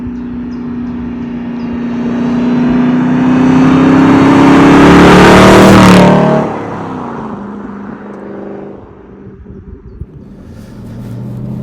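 An Aston Martin Vantage S with a manual gearbox drives past, its loud engine note rising as it accelerates before dropping away abruptly, then continuing more quietly.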